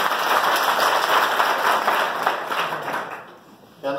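A live audience claps steadily throughout a public talk, the applause loud and dense before thinning and fading toward the end.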